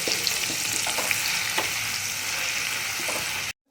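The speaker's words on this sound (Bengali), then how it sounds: "এখন আমি পেঁয়াজটাকে হালকা বাদামি করে ভেজে নেব।" Chopped medium-sized onions fry in a pan and are stirred now and then, making a steady, close sizzle with light scraping ticks that cuts off abruptly at the end.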